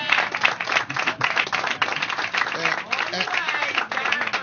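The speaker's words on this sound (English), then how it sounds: "Give him a round of applause for his leadership" Steady applause from an audience at a Philadelphia affordable housing event, honoring Council President Darrell Clarke. The clapping is dense and sustained at an even level throughout, with crowd noise mixed in.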